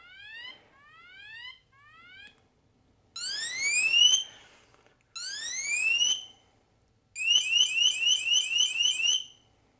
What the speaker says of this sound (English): let me show you guys the siren so you can hear what that's going to sound like